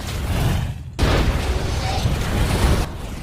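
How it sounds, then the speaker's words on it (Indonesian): A bomb blast on a ship in a film scene: a heavy booming explosion that breaks in suddenly after a brief drop, followed by loud sustained rumbling and debris noise. "Saat detik-detik bom meledak, Arthur melarikan diri ke tengah kapal."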